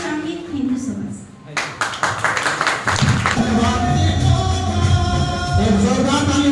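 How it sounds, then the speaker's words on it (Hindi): A crowd at an event breaks into loud, sustained applause for a speaker, the clapping starting abruptly and carrying on densely while voices talk over it. "जो लायक बनाए हैं उनके लिए हम चाहेंगे जोरदार ताली होनी चाहिए"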